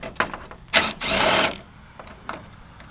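A socket wrench works a 10 mm bolt on a 2001 Chevy 1500 truck, giving a few sharp close clicks and a short whirring ratchet burst, then quieter scattered taps.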